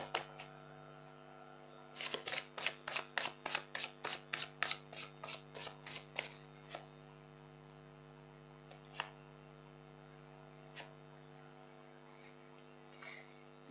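Tarot cards are shuffled in a quick run of about a dozen soft, evenly spaced slaps over a steady electrical hum, followed by a few scattered taps.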